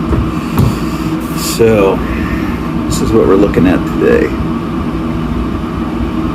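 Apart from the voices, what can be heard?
range hood exhaust fan running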